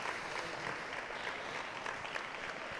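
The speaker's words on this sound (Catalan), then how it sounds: "Eixe fort aplaudiment a les dues noves falleres majors" Loud, steady applause fills a hall as two new falleres majors arrive at the crowning ceremony of the Valencian Fallas, a continuous dense wash of clapping with no break.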